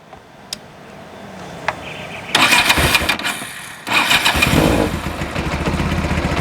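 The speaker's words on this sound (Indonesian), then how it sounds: "Kalau kita dengar seperti ini, ada bunyi tok tok tok tok seperti bunyi knocking." Kawasaki KZ1000 Police motorcycle engine cranking and catching, then revving roughly and settling into a close, loud running idle with a knocking clatter.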